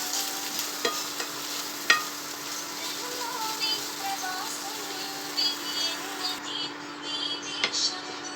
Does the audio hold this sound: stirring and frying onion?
yes